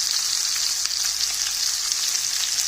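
Seasoned chicken pieces sizzle steadily in a hot pan over slightly lowered heat, browning for a French creamy chicken fricassee; a close, continuous hiss with no voices.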